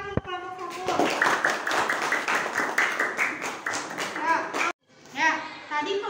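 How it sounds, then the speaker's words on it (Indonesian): Classroom clapping for a student group, a burst of hand claps mixed with children's voices, starting after a short spoken line and breaking off briefly before chatter resumes. "Beri tepuk tangan untuk kelompok 1."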